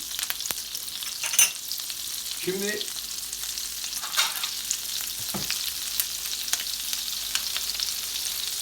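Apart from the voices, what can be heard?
lamb ribs frying in butter and oil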